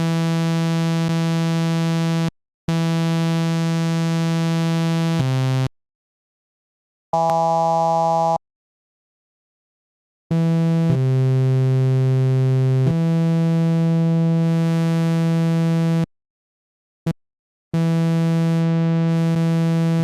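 Sustained Mai Tai synth tones with oscillators on saw and triangle waves, buzzy, harmonic-rich held notes that stop and restart with silent gaps, changing pitch and brightness between segments, no voices.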